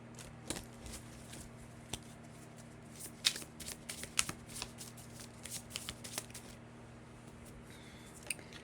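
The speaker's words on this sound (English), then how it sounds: "We need to shuffle this deck." A deck of knockoff Woodland Wardens cards is shuffled by hand, with soft riffling and sharp snapping bursts that come and go over several seconds. The cards sound close and fairly quiet, with no talking.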